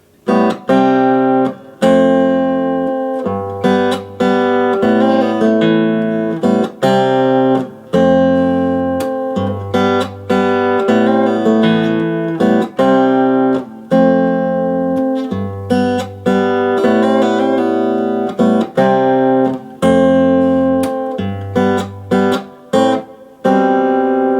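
Acoustic guitar picked note by note through a flowing passage, with clear plucked attacks, steady rhythm and brief pauses, played alone and close.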